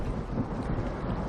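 Deep, continuous thunder-like rumble rolling underwater in the video game SOMA, a dense low roar sustained at steady loudness with no voices over it.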